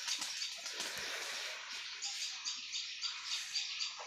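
Giribaz pigeons stir and flutter inside their coop in Rajshahi, with soft chirps and rustling wingbeats in a bright, busy texture, fairly close and without talk.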